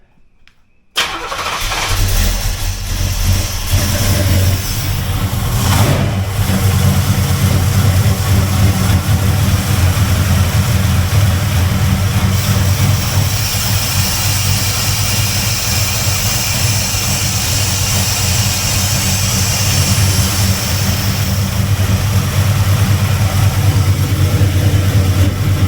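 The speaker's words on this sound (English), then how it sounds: "so we're going to go ahead and start the car up." A 1980 Camaro with a Blueprint 383 stroker V8 fires up at operating temperature and settles into a loud, steady, deep idle that runs on without a break, and nobody speaks over it.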